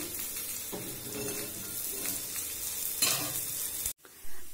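Chapki flatbread fries in oil in a pan, a continuous close sizzle with light stirring scrapes that cuts out abruptly near the end, then resumes.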